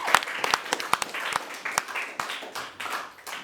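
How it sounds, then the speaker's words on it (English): An audience at a science-communication competition final gives a round of applause, a dense burst of many hands clapping that carries on steadily for several seconds with sharp individual claps standing out. "And Leah, another round of applause."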